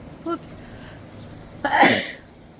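A single sharp sneeze bursts out close and loud after a short vocal sound, with a quiet room hum around it.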